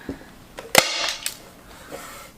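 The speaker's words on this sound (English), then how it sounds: "I'm going to flip this over and I'm going to use a staple gun" A staple gun fires staples through fabric stretched over a lid, with two or three sharp, close snaps and some handling noise around them. No one speaks.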